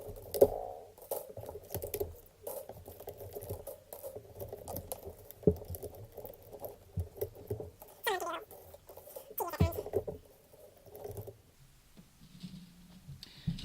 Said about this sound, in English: You can just start unwinding them